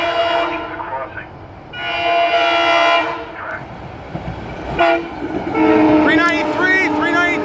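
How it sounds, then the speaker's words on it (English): SEPTA train 6598 passes a road crossing on Lower State Road and sounds several loud horn blasts, with rumbling wheels and clacking rail noise close by. "Warning, a train is approaching the crossing."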